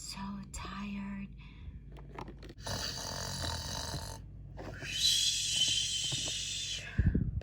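Imitated snoring for a toy doll, acted out with Disney Encanto toys: a voice makes several drawn-out, breathy snore sounds in a quiet bedroom setting, alternating with soft whispery noises, moderately loud and close.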